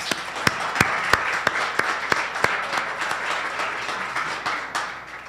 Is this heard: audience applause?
yes